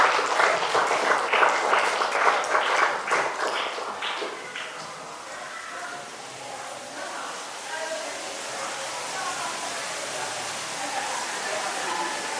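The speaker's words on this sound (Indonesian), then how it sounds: "beri tepuk tangan untuk temannya ya" Classmates clap for a fellow student in a lesson, a bright burst of hands lasting about four seconds before fading into quiet room noise with soft voices.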